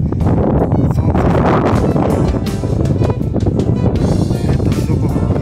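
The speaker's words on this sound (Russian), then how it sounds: "Ветер задувает." Strong wind buffets the microphone at the Nikolaevskaya hill lookout in Krasnoyarsk, a loud, continuous gusting roar with rumbling low-end bursts that swell and ease throughout.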